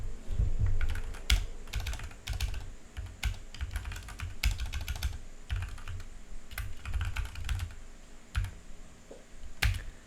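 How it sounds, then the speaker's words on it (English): Keys on a computer keyboard clack in quick, irregular bursts of typing with brief pauses, close and crisp against a quiet room. "Let's say for example, I would like to type this phrase."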